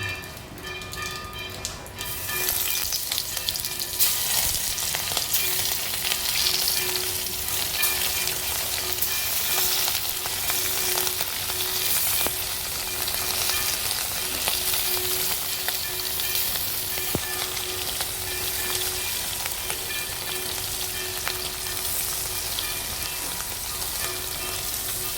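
Marinated fish hits hot oil in a kadai and breaks into a loud, steady sizzle after a brief quiet moment, then bubbles and crackles continuously up close for over twenty seconds, with no talking.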